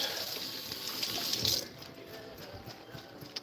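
Water poured out of a cooking pot, a gushing hiss that builds for about a second and a half, then cuts off to quiet background with a few small knocks.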